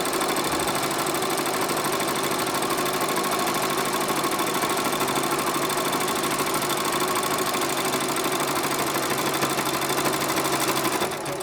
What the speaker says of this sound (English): and then just sew right down the middle